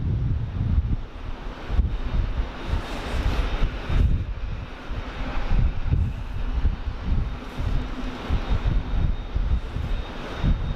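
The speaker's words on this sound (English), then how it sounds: "here it comes, the A380 from Johannesburg" Qantas Airbus A380 on final approach into Sydney Airport after a long flight from Johannesburg, a steady broad jet roar with heavy wind buffeting on the microphone throughout, no talk.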